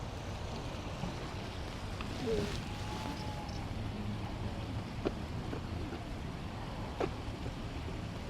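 River water flows past the plum garden at Jōnangū shrine in Kyoto, a soft, steady rush that continues evenly throughout, with a brief murmured voice and a few faint clicks.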